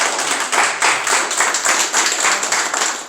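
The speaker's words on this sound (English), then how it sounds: "Let's give him a hand clap today." A roomful of guests at a 49th Precinct Clergy Council holiday brunch give sustained hand-clapping applause, a dense, loud and steady clatter that carries on without pause and with no talking over it.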